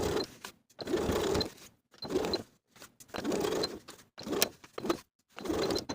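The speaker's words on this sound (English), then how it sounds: "I'm going to stitch in the ditch from seam to seam, securing that inner folded edge." Domestic sewing machine stitching in the ditch along a cardigan seam, securing an inner folded facing edge; several bursts of whirring motor and needle running in stops and starts, near and alone.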